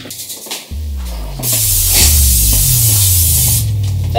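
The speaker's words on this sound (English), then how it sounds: "we're going to spray the bottom of the air fryer's tray" Non-stick cooking spray hisses from an aerosol can onto the bottom of an air fryer tray, one loud continuous spray lasting several seconds after a short click.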